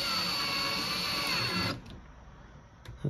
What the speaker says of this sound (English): I'm gonna go put those screws back in. New screws.